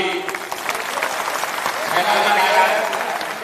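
Audience applause at a Jan Suraaj party state-level workshop in Patna's Bapu Sabhagar hall, steady and dense, swelling slightly toward the end.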